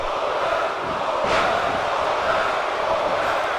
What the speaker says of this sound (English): You hear the crowd chanting for Goldust here in Kansas